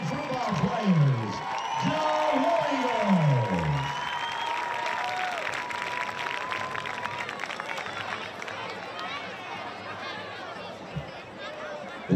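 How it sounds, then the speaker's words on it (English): Crowd at a high school football game applauds cheerleaders and football players, with clapping, cheering and chatter spread across the stands; a voice over a loudspeaker is heard at the start before the crowd noise carries on. "How about a big round of applause for your JWE cheerleaders and football players?"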